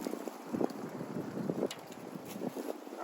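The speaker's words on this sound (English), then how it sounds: "the wind wasn't blowing like this before I came up with the ember" Strong outdoor wind gusts buffet the microphone in a steady, loud rush with irregular swells, while someone tends an ember from a bow drill fire; no speech is heard.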